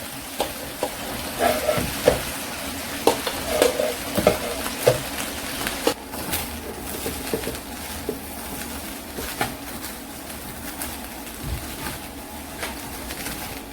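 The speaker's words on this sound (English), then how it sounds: "So you just have to keep stirring to stop the rice from burning from the bottom." Nigerian fried rice is stirred in a frying pot, with repeated scraping spoon strokes and soft clanks over a low sizzle, the scrapes coming in an irregular rhythm that thins out in the second half.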